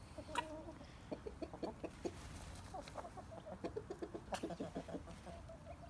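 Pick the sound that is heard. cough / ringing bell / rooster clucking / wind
rooster clucking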